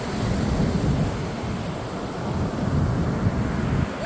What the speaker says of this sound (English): with the ocean right here